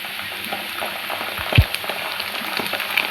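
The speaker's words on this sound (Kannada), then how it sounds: "ಇವಾಗ ಗ್ರೀನ್ ಚಿಲ್ಲಿ ಸಾಸ್ ಹಾಕ್ತೀನಿ ಸ್ವಲ್ಪ." Gobi manchurian frying in a pan as green chilli sauce goes in, a steady close sizzle with a brief louder splutter midway and faint stirring clatter, no voices.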